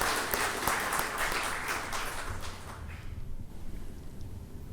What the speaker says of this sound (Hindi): मैं आप सब की ओर से तालियों की गड़गड़ाहट के बीच में आदरणीय राज्यपाल साहब का मैं यहाँ स्वागत करता हूँ।